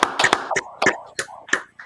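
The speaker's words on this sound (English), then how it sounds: "All right, clap it up." A handful of sharp hand claps ring out in a loose, uneven rhythm from a small gathering, each clap crisp and close with brief gaps between.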